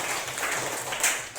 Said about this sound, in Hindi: ताली बजाओ अमित के लिए